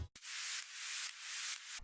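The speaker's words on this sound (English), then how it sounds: "So I added some white noise" A hissing white noise effect in an electronic track, a broad, loud wash that swells in several waves over about two seconds after a brief dropout at the start.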